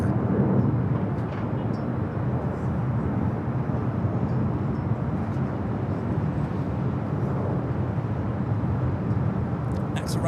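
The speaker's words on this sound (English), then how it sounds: "Arrival here on the north side is Alaska Airlines flight 1306, coming from Seattle is 737-800." An Alaska Airlines Boeing 737-800 arriving at LAX from Seattle produces a steady, broad low jet roar that holds evenly throughout at moderate distance, with no voices.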